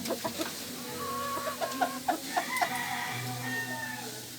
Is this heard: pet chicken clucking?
yes